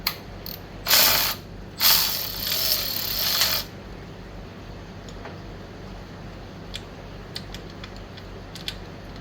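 A ratchet clicks through several quick bursts on a 10mm bolt of a 2003 Honda Elite 80 CH80 scooter during a drive belt replacement, loud and close, followed by quieter faint metallic ticks and handling noises, with no talking.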